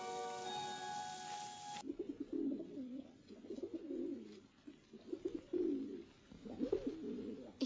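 Pigeons by a castle tower coo in soft, repeated throaty phrases at close range, following a brief burst of music at the start.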